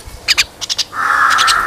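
Tame birds outside their cage give a few short, sharp chirps in quick pairs, followed by a louder sustained shrill whistle-like call with more chirps layered over it, close and clear.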